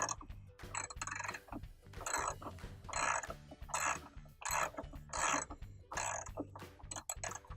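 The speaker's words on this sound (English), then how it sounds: "for the bottom one, we can use a ratchet because there's enough space here" A ratchet wrench unscrews the counterweight bolt on a Kenmore washer, giving a steady series of quick clicking strokes in bursts, close and fairly quiet, with no talk.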